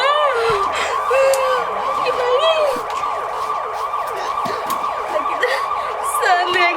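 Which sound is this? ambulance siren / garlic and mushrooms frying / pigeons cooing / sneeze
ambulance siren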